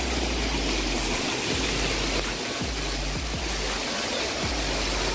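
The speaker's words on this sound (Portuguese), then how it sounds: "Pronto, estamos dentro da cachoeira." Loud, steady roar of a waterfall heard from right inside the falling water, a dense continuous rush with deep low thumps throughout.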